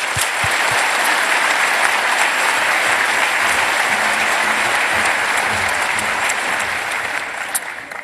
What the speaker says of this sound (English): So if you'll join me in giving them a round of applause,